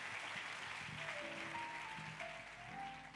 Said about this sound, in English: So we can give a clap to the Lord even as he continues.